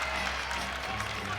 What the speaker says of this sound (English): you can feel the crowd just getting into this one.